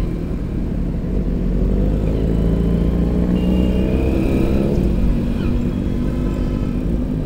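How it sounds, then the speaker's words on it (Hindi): A motorcycle exhaust rumbles loud and close with a continuous low growl that swells slightly as the engine revs while riding, with no talk over it. "एक बार आप इसका एग्जॉस्ट सुनो यार"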